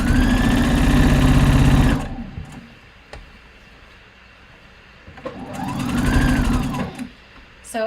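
A sewing machine stitching fabric for a boxy harvest top, running in two loud, steady bursts of rapid mechanical chatter with a quiet pause between them.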